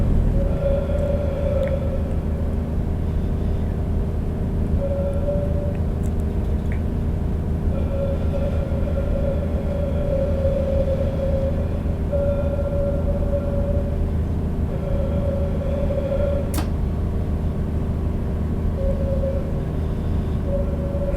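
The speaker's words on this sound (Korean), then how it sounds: "2개씩 총 4량으로 구성된 열차가 지나가고 있어요." Continuous low rumble of a four-car BR642 train rolling past in Train Sim World 5, with a steady mechanical drone and faint tonal hum, loud and unbroken, no voices.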